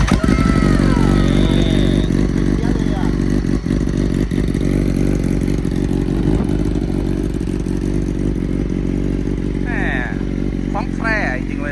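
A BMW HP4 superbike engine runs loud and close, its steady humming note holding throughout while people talk over it.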